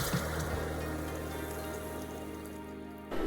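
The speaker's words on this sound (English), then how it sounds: "I'm gonna top it up with some boiling water" Boiling water being poured into a pan over stir-fried ingredients for an instant noodle ramen broth, a soft continuous splashing and trickle, fairly quiet and close, ending with a brief louder burst.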